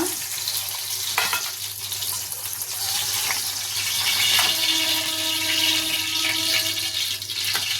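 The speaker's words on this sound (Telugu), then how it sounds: "అదే నూనెలో 1 స్పూను ఆవాలు జీలకర్ర, అలాగే సన్నగా కట్ చేసి పెట్టుకున్న ఉల్లిపాయలు మంచిగా ఫ్రై అవ్వాలి." Thinly sliced onions fry with mustard and cumin seeds in hot oil for mirchi ka salan, a loud continuous sizzle with occasional stirring scrapes and faint seed crackle, no talking.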